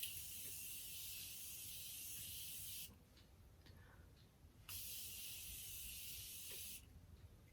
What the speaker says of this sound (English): we're just going to take that and spray it all over our face